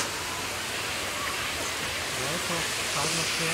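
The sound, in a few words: waterfall rushing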